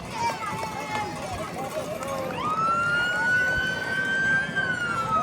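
A Maui Fire Department vehicle in a street parade sounds its siren in a rising, sustained wail, moderately distant over crowd noise and ambient road sound, while an announcer talks over it.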